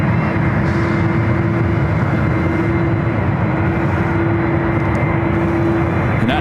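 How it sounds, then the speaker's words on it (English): A United Airlines Boeing 777-200ER taxis out toward runway 28 at SFO, a steady loud engine drone with a constant low hum, unbroken and close throughout. "United 777 heading out to the 28s."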